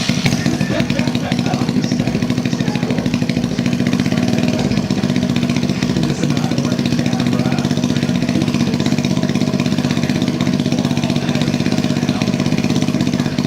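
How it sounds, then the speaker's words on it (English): A 125cc dirt bike engine runs steadily and loudly throughout, a continuous buzzing drone close to the listener with no pauses. "Now that we know the engine works, which is a major success"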